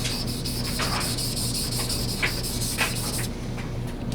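Steady rasping strokes as a knife's primary edge is ground on a sharpening stone, back-and-forth rubbing repeated in quick rhythm, close and fairly loud, with a faint electrical hum and no talking.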